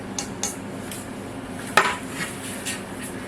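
Metal spoon clinking against a dish while scooping store-bought seafood bouchées for a seafood gratin; light scattered scrapes and taps with one sharper clink midway, close and fairly quiet, no talking.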